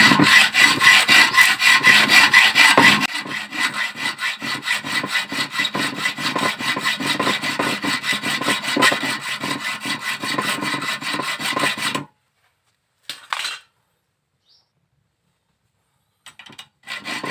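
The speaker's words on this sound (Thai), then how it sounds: "ผมก็จะเลื่อยผ่าตัวที่สอง มันจะเลื่อยแยกนิดนึงนะครับ" A hand saw cuts through a stripped crankcase cover bolt on a Yamaha Fino scooter, a close, rapid back-and-forth rasping of metal that runs steadily, then stops abruptly, followed by a few faint scrapes amid silence.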